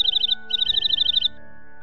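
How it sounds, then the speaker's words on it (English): Nightingale song in two quick bursts of rapid, bright repeated chirps, the second longer, set against a quiet tonal background. "Hark, a nightingale!"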